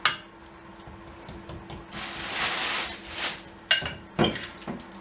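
Chicken drumsticks being tossed with spices in a bowl: close rubbing and scraping strokes come in uneven bursts, with a louder smeary swirl in the middle and sharp knocks near the end.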